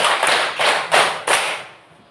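Classroom of students clapping together on count, four loud, crisp, unified claps at an even pace, each decaying briefly, with the last fading into quiet.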